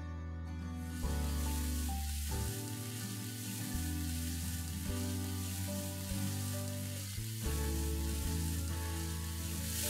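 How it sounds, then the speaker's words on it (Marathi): Fenugreek leaves (methi) sizzle steadily as they fry in about two tablespoons of hot oil, a continuous hiss running through the whole stretch beneath prominent background music. "हे तेल गरम झाल्यावर आपण ही मेथी टाकून परतून घेऊया"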